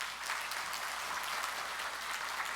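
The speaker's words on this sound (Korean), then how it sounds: "주님께 박수 한번 치셔야 됩니다" A church audience at a Catholic Holy Spirit seminar in Cheongna applauds for the Lord during a priest's lecture, with dense, sustained clapping from a crowd that holds at an even level throughout.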